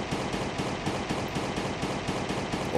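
Rapid, continuous bursts of automatic gunfire in the video game Last Day On Earth, in a steady rhythm, loud and dense throughout, with no voices.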